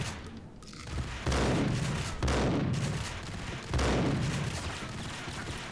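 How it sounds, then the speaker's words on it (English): Three heavy shotgun blasts from the video game Max Payne boom out loud and close at roughly one-second intervals, each with a long rumbling decay, and no one talks over them. "I am going to shotgun him"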